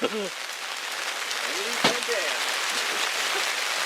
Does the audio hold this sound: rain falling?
yes